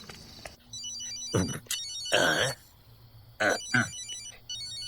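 A telephone rings in a Malayalam-dubbed thriller comedy film scene, sounding as a repeated high electronic trill between bursts of people talking.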